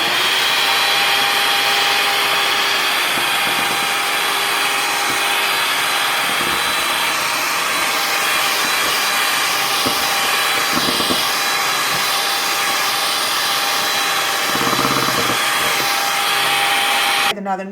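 An electric mixer whips chocolate chiffon cake batter with a loud, continuous whine and hum. The motor runs without a break, and the beaters knock faintly against the bowl now and then.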